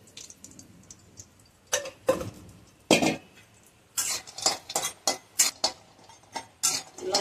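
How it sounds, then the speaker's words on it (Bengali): A spatula scrapes and clanks irregularly against a pan as pumpkin bori, lentil dumplings, fry in a little oil. The knocks come in close, sharp bursts with faint background sizzle between them. "লাল লাল করে ভেজে নিচ্ছি।"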